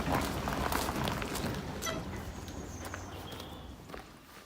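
A horse's hooves clop on hard ground at a walking pace, a run of close footfalls that fades slightly toward the end, with faint background noise and no talk.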